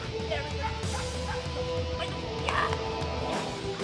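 Military working dogs bark and yip repeatedly in a busy outdoor setting, with sharp bursts rising over constant background noise and other faint sounds.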